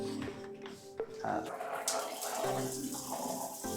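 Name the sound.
water running from a newly installed shower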